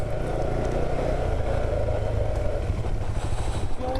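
A light-fronted dirt bike fitted with a skid plate rides off-road, its engine droning steadily and loudly the whole time with slight rises in pitch near the end.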